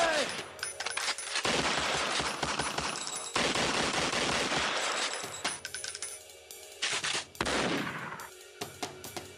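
A shootout in a Nigerian action film, with dense, loud bursts of automatic gunfire and rapid shots that come in waves and break off in brief gaps across the scene, with little talk beneath.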